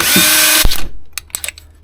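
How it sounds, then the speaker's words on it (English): A power drill whines loudly and steadily, then cuts off abruptly, followed by a few faint clicks and small knocks. "The drill that I'm using,"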